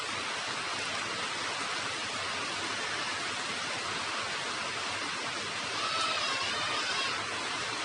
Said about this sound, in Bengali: বেশ কিছুক্ষণ ধরে মাংসটাকে ভালো করে কষিয়ে নিচ্ছি।